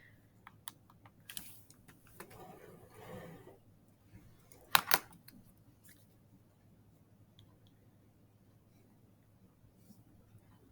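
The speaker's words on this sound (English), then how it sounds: "I'm going to type in this entire left side to my calculator." Fingers tapping keys on a calculator as an equation is entered, a quiet run of light, quick clicks with one sharper knock partway through, close by in a quiet room.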